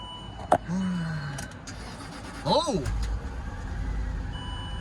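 A 2006 Land Rover LR3 with an overheating problem cranks and starts: a short starter whine, then the engine catches and settles into a low steady idle, close by, with a few warning chimes and a voice speaking over it.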